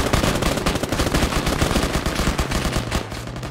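Rapid automatic gunfire in a military video game, loud and close, a dense unbroken burst of rattling shots that tapers slightly near the end.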